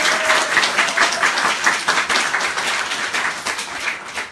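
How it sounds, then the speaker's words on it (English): A crowd in a casino announcement setting gives a dense, continuous round of applause, loud and steady throughout with many hands clapping at once and no speech heard. "So I'd like to give them a round of applause too."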